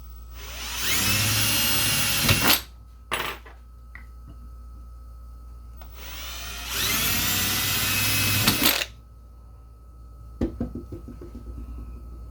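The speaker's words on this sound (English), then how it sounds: "and drill the end caps" High-pitched drilling into brass end caps with a 1/8 inch bit comes in two sustained bursts, each a couple of seconds long, separated by quiet pauses with a few small clicks and knocks.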